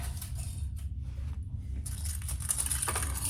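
Metal sewing clips clatter and jingle in a dish, with light rattling and scraping that grows busier toward the end, heard close up with a steady low hum underneath.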